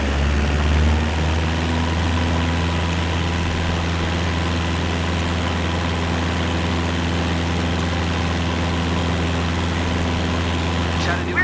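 Cessna Skyhawk piston engine in Microsoft Flight Simulator, a steady loud low droning hum with a propeller throb that holds unbroken throughout, heard from inside the cockpit.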